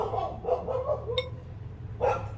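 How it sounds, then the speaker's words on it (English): Neighboring dogs bark in several quick yaps followed by one more sharp bark, heard at moderate distance with a low steady hum underneath. "Excuse the dogs, not mine"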